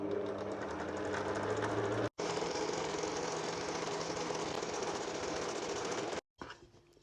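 Food processor whirring steadily as it mixes flour for Moroccan chebakia dough, a loud continuous motor drone with a rattling, clattering texture, cutting out briefly at about two seconds and stopping near the end.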